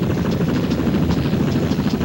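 Steady rotor thump and engine drone of a helicopter, close and loud, holding constant throughout.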